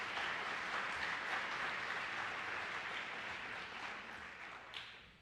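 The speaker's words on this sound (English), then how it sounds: "How about a round of applause to the staff at GW Graham for your dedication and hard work." Guests at a school principal's reception applaud the staff of GW Graham with sustained clapping. The dense applause fades slowly toward the end, and a few claps stand out near the close.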